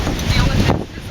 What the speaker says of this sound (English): Because honestly, this is so windy.